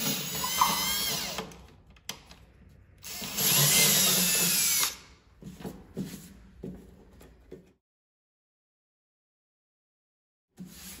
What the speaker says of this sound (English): we're going to drill straight down